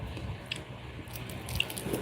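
Crispy fried fish head being chewed at lunch, with soft crunches and wet bites sounding close and faint over a quiet background.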